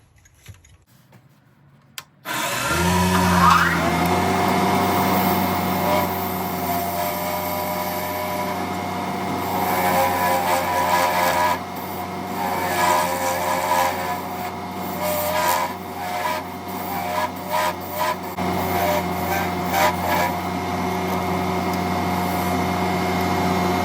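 A metal lathe spins up after a quiet start and runs steadily, turning down a two-piece cap sleeve for a bespoke fountain pen; a loud continuous whirring hum with scraping cutting noise and occasional clicks near the end.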